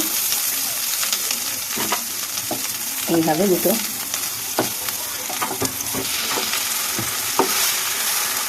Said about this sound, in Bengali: দিয়ে ভালো করে আমি ভেজে নেব ডিমটাকে